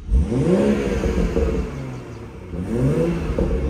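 A 2016 BMW M240i engine revs up through twin exhaust pipes, a deep rumbling roar that rises, dips, then climbs again, loud and close.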